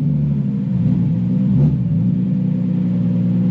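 A Nissan R34 GT-R with an RB26 engine runs with a deep, steady exhaust rumble. A brief blip of revs swells and fades around the middle, and the sound is close and loud throughout.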